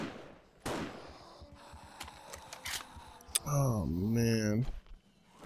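Sniper rifle shots in the zombie survival video game 7 Days to Die: a couple of sharp cracks near the start and middle, followed by a loud wavering game sound, with speech over the top.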